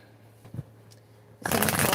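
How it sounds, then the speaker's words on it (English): A few soft taps and rustles, then a loud, rapid riffle of cards being shuffled close by. "Actually, let me shuffle first."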